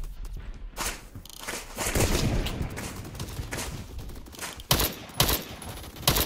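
Gunfire in the video game Arsenal: dense, sustained bursts of rapid shots blend into a continuous rattle, broken by a few sharper, louder cracks near the end, with no talking.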